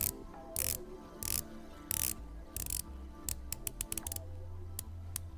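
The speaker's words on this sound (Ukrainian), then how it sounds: "це клацання безелю. Звук якийсь штучний." Crisp mechanical ratcheting clicks from the rotating bezel of a Longines HydroConquest GMT watch, first in slower bursts, then a rapid run of tight ticks, close up and quiet.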